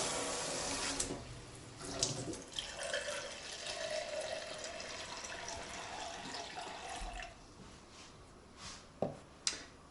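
Tap water runs into a container to measure 200 ml for a focaccia Genovese salt brine, a steady close stream whose pitch rises as it fills, then stops, followed by a few faint clinks.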